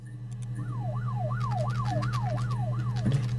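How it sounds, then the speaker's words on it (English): A wailing emergency siren in the video game Her Story sweeps up and down in a steady repeating cycle over a low constant hum, fairly loud and without talk. "There's that siren again that scared the shit out of me the first time."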